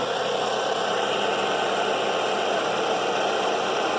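Running engine of a 2008 Dodge Caliber with a pulley noise, a steady close mechanical whir and hum with a faint rhythmic whine, continuous and even throughout.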